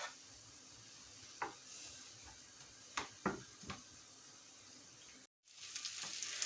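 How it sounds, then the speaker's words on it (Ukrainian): Onion frying in a pan for lasagna, cooking toward golden: a steady close sizzle runs throughout, with a few sharp clinks of a utensil against the pan and a brief dropout near the end. "можемо кидати цибульку і засмажуємо до золотистого кольору"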